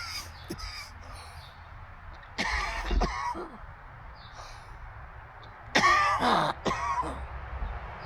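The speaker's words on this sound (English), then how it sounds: "I'm about to cough." A man coughs hard in two rough, hacking bursts separated by a quiet pause, close and fairly loud against a faint outdoor background.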